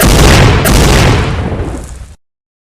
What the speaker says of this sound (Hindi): गने उगलने लगी आग और गूंजने लगे बमों के धमाके